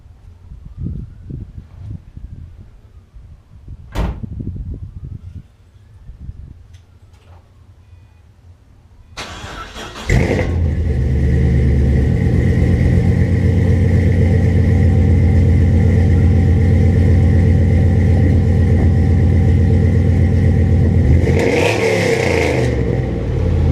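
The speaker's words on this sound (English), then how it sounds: "give it a little rev" A 2006 Pontiac GTO engine idles faintly, then bursts into a loud, sustained rev that holds steady and rises again near the end, close and alone with no talk.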